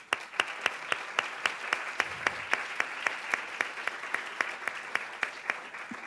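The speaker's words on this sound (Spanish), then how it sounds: "Un aplauso." Audience applause following a talk at an academic discussion, steady rapid clapping from a modest crowd, fairly even and moderately distant, continuing for the whole span without speech.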